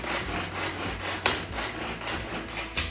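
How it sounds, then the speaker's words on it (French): A Tupperware Extra Chef manual pull-cord chopper works through cooked broccoli, giving rhythmic whirring, rasping bursts with a couple of sharp clacks, close and fairly loud. "je vais prendre mon extra chef pour venir hacher mon brocoli"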